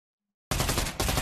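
Automatic gunfire from a firearm in the VR shooter game Pavlov, a loud burst of rapid shots starting abruptly after a moment of silence, with a second burst following close behind.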